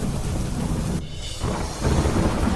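Heavy downpour over Vadodara city with a deep rumble of thunder, the dense hiss of rain briefly thinning before the rumble and roar swell back, close and loud throughout.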